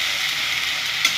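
Onion paste sizzles steadily as it is stirred in a hot pan, a close, continuous frying hiss with one faint scrape near the end.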